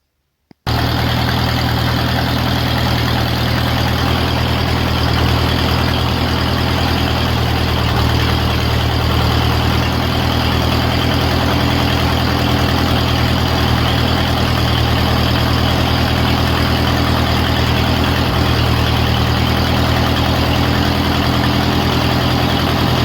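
A Bobcat M-610 skid steer engine starts abruptly and then idles loud and close, a steady rough low rumble with constant vibration that holds unchanged for over twenty seconds, with no talking.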